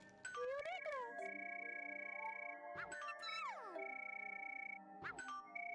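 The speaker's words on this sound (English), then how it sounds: "when we hit the bell with Pikachu" Pikachu strikes the Wish Park bells in the video game PokéPark 2: Wonders Beyond, giving three bright chiming rings with swooping tonal sweeps over a steady sustained musical drone.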